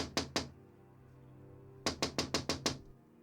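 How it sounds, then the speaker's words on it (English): Knuckles rap on glass in two bursts, three quick knocks followed after a pause by a faster run of six, crisp and close with quiet between. "and then began knocking on the glass"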